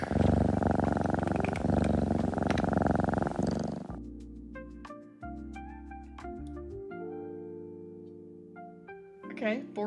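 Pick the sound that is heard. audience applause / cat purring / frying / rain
cat purring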